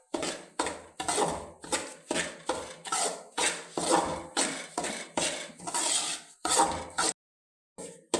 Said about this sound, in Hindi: सूजी भून रही है और बहुत प्यारी खुशबू आ रही है।